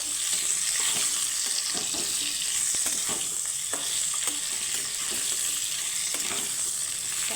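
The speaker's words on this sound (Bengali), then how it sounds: "আম আমটাকে আমি সুন্দরভাবে নারিয়ে চালিয়ে নেবো" Raw mango pickle with spices, hing and salt being stirred in a frying pan, with a steady sizzle and repeated scraping strokes of the spoon against the pan throughout.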